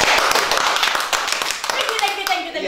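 A small group claps hands in a quick, dense patter of close claps that tapers off after a couple of seconds, with voices mixed in.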